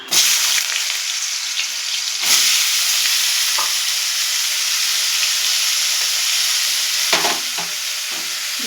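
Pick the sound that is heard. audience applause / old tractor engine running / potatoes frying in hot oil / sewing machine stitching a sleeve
potatoes frying in hot oil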